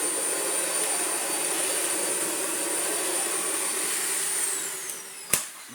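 A Dyson vacuum cleaner with its hose missing runs with a loud, steady high-pitched motor whine, then the pitch slides down as it spins down and a sharp knock follows near the end.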